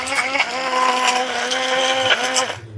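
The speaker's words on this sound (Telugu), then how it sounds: "కొంచెం కొంచెంగా మిక్సీ పట్టుకున్నాం" Roasted curry leaves, salt and tamarind are ground into spice powder in a mixer grinder, its close motor whining loudly with slight pitch dips before it cuts off at the end.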